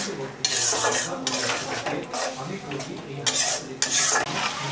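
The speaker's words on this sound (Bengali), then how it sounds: "মরিচ বাটা, তারপর এভাবে সুন্দরভাবে নাড়াচাড়া করিতে হইবে" A spoon scrapes and clatters against a metal pan as chilli paste is stirred into a home-cooked Bengali chicken curry, in repeated bursts of scraping with faint sizzling between strokes.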